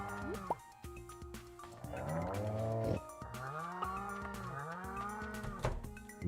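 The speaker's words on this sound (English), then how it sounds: "Noisy cows today." Cattle in the farming video game Stardew Valley, a string of loud, close cow moos with drawn-out wavering calls overlapping one another for several seconds, no talking over them.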